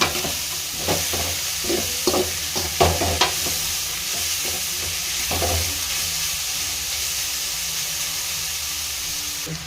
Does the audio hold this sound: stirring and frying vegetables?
yes